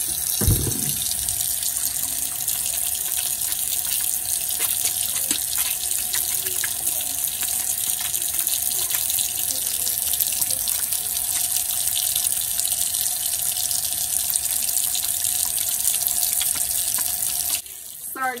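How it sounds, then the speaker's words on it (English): Hands being washed under a running kitchen tap, a steady, close, continuous gush of water lasting the whole time before it cuts off at the end, with a brief bump near the start. "I am going to go ahead and give my hands another good washing."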